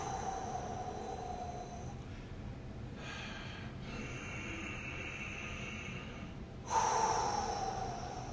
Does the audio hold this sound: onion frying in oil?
no